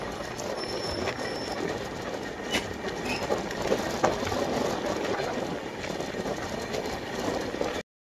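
The Deccan Queen Express runs between Pune and Mumbai, heard from on board as a continuous rumbling roar of wheels on track with clattering, squealing metal, steady and moderately loud throughout before cutting off abruptly.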